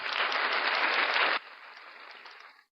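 A canned applause sound effect fired from a button: a burst of crowd clapping at full level that cuts off abruptly partway through, leaving a quieter clapping tail that fades to silence.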